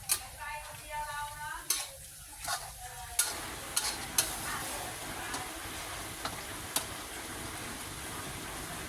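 Curry with roasted rice and holy basil stir-fried in a Thai kitchen: a utensil scrapes and clacks against the pan at first, then a steady loud sizzle with occasional sharp metal taps.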